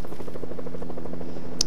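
A Fortnite helicopter's rotor makes a loud, rapid rhythmic chopping that pulses steadily, with a brief sharp in-game chime near the end and no talk.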